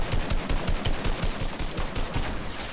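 Rapid bursts of automatic gunfire from the video game Fortnite, a dense rattling stream of shots running steadily throughout with no pauses, loud and close in the mix.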